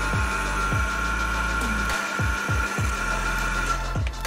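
A novelty duck-shaped nail dryer's small electric fan motor drones steadily with a loud, buzzing hum, accompanied by rhythmic low thumps throughout.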